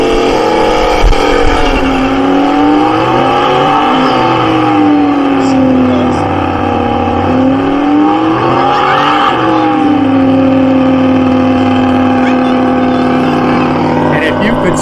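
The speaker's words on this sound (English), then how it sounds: "When you hear that horn, tires will light up." Muscle car doing a tire burnout in a car show burnout contest, the engine revving hard with rising and falling pitch sweeps over a continuous loud roar of spinning tires, close and sustained.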